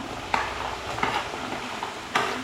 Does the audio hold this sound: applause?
no